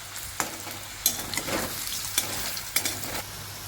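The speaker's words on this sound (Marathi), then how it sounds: "आपण हे फास्ट गॅसवरती भाजून घेतोय." Raw banana pieces frying and being stirred in a pan over a high gas flame, a steady close sizzle broken by several sharp scraping strokes of the spoon at regular intervals.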